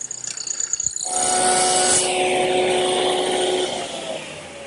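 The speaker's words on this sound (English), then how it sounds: "I've set up my dedicated mortiser with the 1/4-inch chisel" A dedicated mortiser fitted with a 1/4-inch chisel cuts a mortise in wood: a motor spins up after a brief knock and drones loudly and steadily with a whining tone, then eases off near the end.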